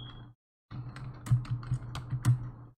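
Quick, irregular clicking of fingers typing on a computer keyboard, close and fairly soft, arriving in a stream of keystrokes after a brief pause.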